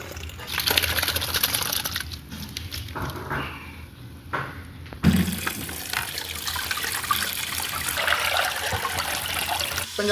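Tap water runs and splashes steadily as fresh fenugreek leaves are washed, a close, continuous gush that briefly drops to a softer trickle before flowing fully again.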